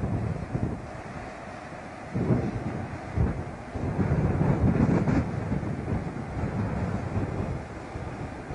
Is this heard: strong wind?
yes